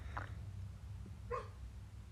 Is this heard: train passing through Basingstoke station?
no